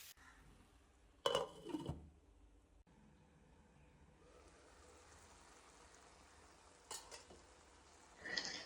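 Prawns coated in masala frying in a pan, stirred in a few short scraping bursts over a steady soft sizzle, with quiet stretches between the stirs.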